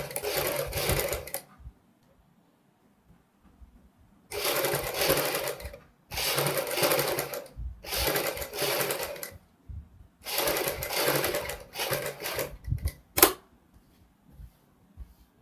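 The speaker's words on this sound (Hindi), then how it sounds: "यहाँ से हमने सिलाई शुरू करनी है। जो हमारी पाइपिंग वाली सिलाई है, सेम हमने उसी के ऊपर सिलाई लगानी है।" Sewing machine runs in five separate bursts, stitching over the piping along a kurti neckline, each run lasting one to two seconds with short pauses between, then a few quick taps at the end. Close and loud, no talking.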